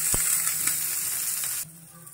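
Onion and capsicum with a pinch of salt sizzle steadily in a pan, a close, continuous frying hiss with a brief tap near the start, dropping off sharply near the end.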